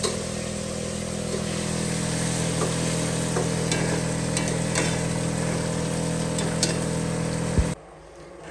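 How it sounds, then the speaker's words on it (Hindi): Dry fruits roast and lightly fry while ghee melts in a pan, giving a continuous sizzling crackle over a low steady hum, with faint stirring clicks before the sound cuts off abruptly near the end. "साथ साथ में लाइट फ्राई कर रही हूँ, और साथ साथ में घी पिघला रही हूँ"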